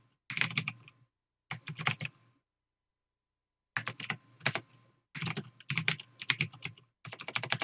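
Bursts of rapid typing on a computer keyboard, close and clear, with irregular pauses of silence between flurries of key clicks.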